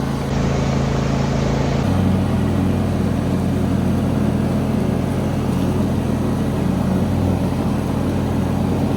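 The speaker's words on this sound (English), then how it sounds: "Let's get this mowing done." A ride-on lawn tractor engine drones steadily while mowing a yard, a loud, continuous low rumble with no breaks and no talking.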